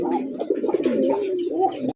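Black lace satin pigeons at a pigeon farm coo in low, throaty, rolling calls that run almost continuously and close up for about two seconds.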